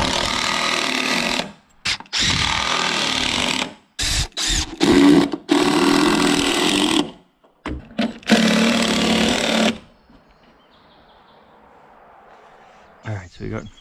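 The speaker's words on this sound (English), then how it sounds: "I need to put some screws from the backside into these floor joists." A power driver sinks screws into the floor joists of a barn kit, in repeated loud whirring bursts of one to two seconds each with short gaps, then a quiet stretch of room noise.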